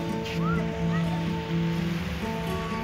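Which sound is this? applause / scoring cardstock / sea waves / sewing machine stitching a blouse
sea waves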